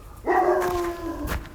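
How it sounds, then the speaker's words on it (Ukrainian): A single drawn-out dog bark or yelp, somewhat distant, followed by faint outdoor noise in snowy surroundings. "Ти чуєш собака гавкає?"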